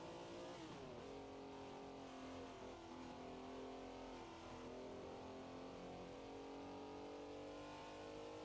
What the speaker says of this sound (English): Lots of rich harmonies in this engine note. It is a Ferrari V12 after all.